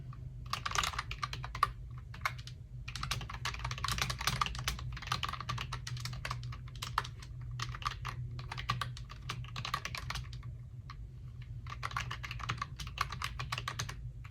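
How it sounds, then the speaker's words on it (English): Close, crisp typing on a backlit wireless keyboard in quick bursts of soft clicks, pausing briefly between runs, over a low steady hum. "you can just hear that feedback that you get when you are typing in"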